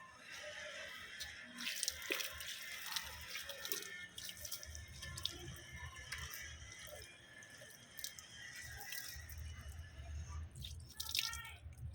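Water poured over potted plants, splashing and dripping continuously for about twelve seconds, fairly close, with small uneven bursts in the flow.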